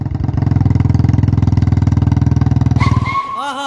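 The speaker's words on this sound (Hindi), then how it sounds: "वाह, मजा आ गया बाइक चलाने में।" A Royal Enfield Bullet motorcycle thumps loudly and close with a rapid, even single-cylinder beat for about three seconds, then cuts off. Brief tonal whistling sounds follow.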